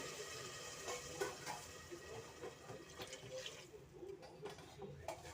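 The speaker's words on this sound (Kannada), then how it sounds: "4 ಗ್ಲಾಸ್ ನೀರು ಹಾಕ್ತಾ ಇದ್ದೀನಿ" Four glasses of water pour steadily into a pot of hot water, a soft continuous splashing and gurgle heard faintly and a little distant.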